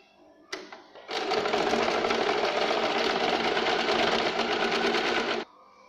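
A sewing machine stitches tucks on a katori blouse cup, running in one loud, steady burst of rapid needle chatter for several seconds after a short start-up click.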